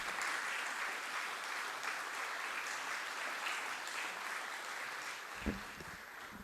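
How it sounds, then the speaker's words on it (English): Audience applause at an academic award felicitation ceremony, a steady broad wash of clapping sustained throughout, moderately distant, ending with a couple of louder nearby claps. "Let's give him a big round of applause for his remarkable achievements."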